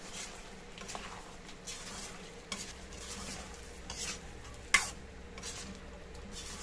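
Pork caldereta with coconut milk bubbling in a pot, a soft simmering patter with occasional scrapes and one sharp clink of a utensil against the pot, quiet and close, no talking.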